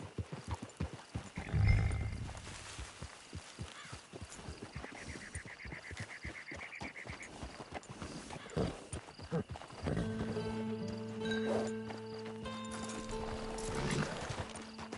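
Horse hooves clip-clop in Red Dead Redemption 2, a steady run of close, sharp hoofbeats with a heavier thump early on, joined later by a sustained tonal hum and a brief croaking sound.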